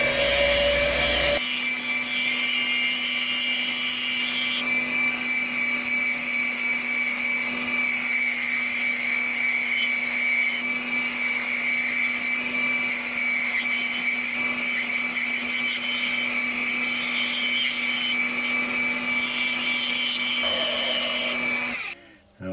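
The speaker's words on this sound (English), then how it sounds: "I'm just finishing the cutting off with a skew chisel now, getting right down to the spacer" A wood lathe turns a candy-stripe pen blank on its bushings and spacer while a skew chisel cuts, giving a steady, loud, continuous whine with a constant tone and scraping texture throughout, ending abruptly near the close.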